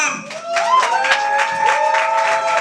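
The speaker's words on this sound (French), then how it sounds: "Alors applaudissons pour nous-mêmes." Audience applause at a free gathering of human rights activists in Kinshasa, with clapping bursts running under a sustained tonal voice or music for a couple of seconds.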